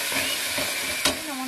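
Cumin and coriander powder sautéing in a pan for a Bengali mushroom curry: a steady hiss that ends in one sharp, brief stirring clatter.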